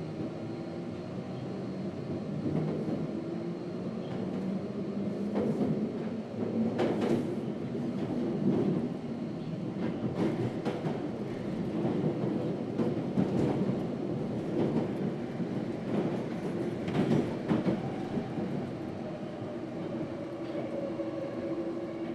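A London Underground Victoria Line train rumbles steadily through a tunnel for over twenty seconds, its wheels clattering rhythmically on the rails with periodic sharp clicks at joints, loud and close, with no talk.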